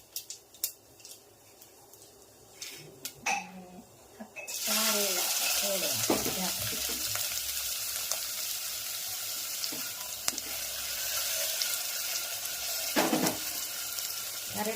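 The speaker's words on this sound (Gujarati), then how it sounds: "તેલ મુકાઈ ગયું છે રાય જીરું જીરાની તતડાથી બોલી રહી છે" Mustard and cumin seeds hit hot oil after a few quiet clinks, bursting into a loud, sustained crackling sizzle with sharp popping close up.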